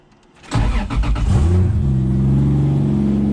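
A Toyota 2JZ engine swapped into a Nissan S13 with a budget exhaust fires up and revs, first a sharp burst of throttle blips, then a loud, steady idle rumble up close.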